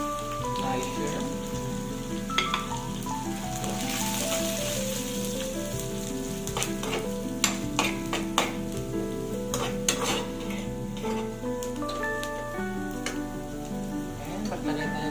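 Dried shrimp sizzle and fry in a pan with bean sprouts, a dense steady crackle and hiss close by with occasional sharper pops and stirring clatter, no voices.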